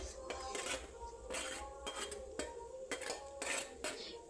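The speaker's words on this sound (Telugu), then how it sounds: "వేసుకొని కలుపుకోండి" A spoon scrapes and clinks around a metal pot while dry coconut powder is stirred into semiya payasam, with repeated close scraping strokes in an irregular rhythm and a steady low background hum.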